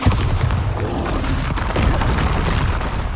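A Bombarda explosion spell cast in Hogwarts Legacy lands as a dense, booming blast amid steady game combat noise, with a low rumble that holds for about three seconds and no clear separate hits.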